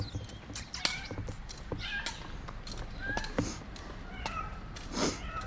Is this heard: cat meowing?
yes